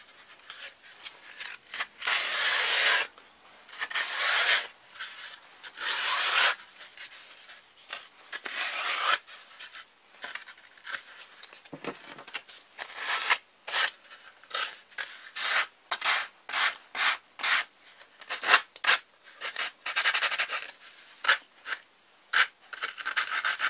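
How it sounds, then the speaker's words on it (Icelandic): Sandpaper rubbed over overlapping covering layers on a Kwik-fli Mk III model aircraft, heard up close as loud rasping strokes, first long and sweeping, then shorter and quicker back-and-forth scrapes. "með því að pússa hérna þá pússast þau örlítið saman"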